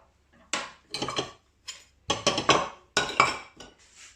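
A small whisk beats egg with vinegar in a small bowl, making quick bursts of metallic clinking and tapping against the sides, separated by brief pauses.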